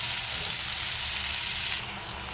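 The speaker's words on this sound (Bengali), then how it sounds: "এবার আমি গ্যাসটাকে লো ফ্লেমে করে পোস্তটা দিয়ে ভালো করে ভেজে নেব।" Poppy seeds frying with lightly fried onion in a pan on a low flame, making a steady soft sizzle that eases slightly near the end.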